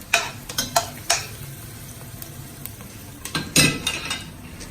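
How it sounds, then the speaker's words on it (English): Red onions going into a pan for Filipino nilagang pork soup, with a few soft scraping, clinking and stirring noises over a faint sizzle, close by and intermittent. "So in goes the red onions."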